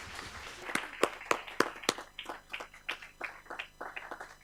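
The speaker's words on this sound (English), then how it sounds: "Round of applause." A conference audience gives a short round of applause, sparse separate claps at first that settle into a thin, uneven patter, fairly quiet and fading.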